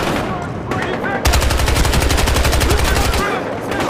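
Rapid automatic gunfire bursts loud and close in the shooter game Battlefield Hardline, a sustained rattling stream lasting a couple of seconds amid other game noise and a faint voice.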